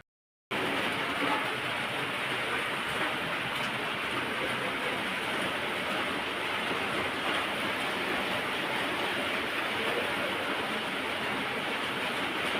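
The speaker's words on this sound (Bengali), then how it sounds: "হালকা একটু হালকা হালকা পড়ে যাচ্ছে বৃষ্টি" A steady, even hiss of light rain falls continuously, with no voices and no breaks.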